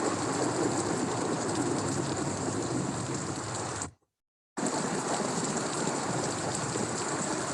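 Heavy, steady rain pours down with a dense hiss, broken by a brief moment of total silence before the downpour resumes.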